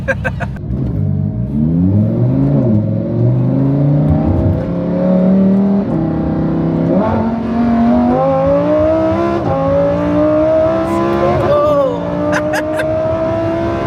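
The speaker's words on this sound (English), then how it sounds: "In a Lamborghini STO." Lamborghini STO accelerating hard in a roll race in Dubai, a loud, close engine roaring and climbing in pitch through several gear changes with brief dips between them, continuous throughout.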